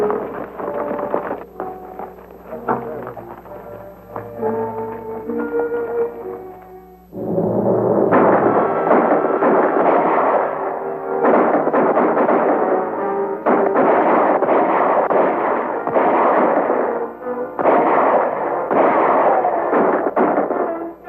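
Gunfire in a 1941 western shootout, with bursts of shots and rolling blasts under a film score; music plays alone at first, then loud, dense firing erupts around seven seconds and continues in repeated volleys.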